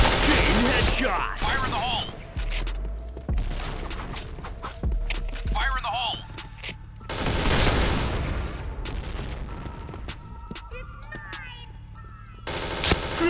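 Rapid gunfire in the Point Blank shooter game, with dense repeated bursts and single shots across the whole stretch, loud and close, mixed with game voices and effects.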